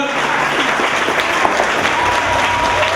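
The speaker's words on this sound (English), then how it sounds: "Clap it up, everybody." Crowd at a breast cancer awareness event clapping for survivors, loud dense applause with crowd noise that holds steady from start to finish.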